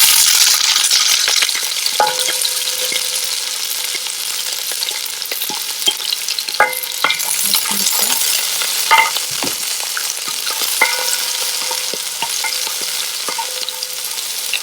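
About one and a half cups of onion or shallot fry over a medium flame in a pan with popped mustard seeds for Kerala-style chicken roast, a steady loud sizzle broken by repeated scraping stirs and clinks.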